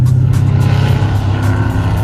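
A Mercedes-Benz S63 AMG being driven hard on a Targa road rally, its engine a loud, close, steady growl with some road and tyre noise over a couple of seconds.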